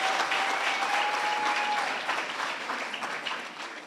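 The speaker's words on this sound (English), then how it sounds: "Another very big round of applause" A large audience at an academic colloquium applauds after a music and dance performance, giving sustained, even clapping that gradually fades toward the end.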